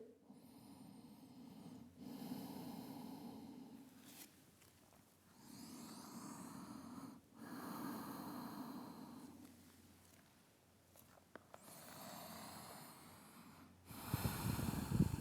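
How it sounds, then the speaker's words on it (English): Slow, audible breathing during a held yoga pose in an Ashtanga Surya Namaskar A practice: several long inhales and exhales with a soft hiss and brief pauses between them, close and quiet. "5 breaths here."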